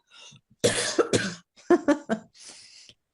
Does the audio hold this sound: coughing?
yes